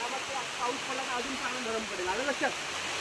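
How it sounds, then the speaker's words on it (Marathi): Heavy rain with wind pours down as a constant dense wash of noise, with people talking over it. "वारा पाऊस पण जोरात आला"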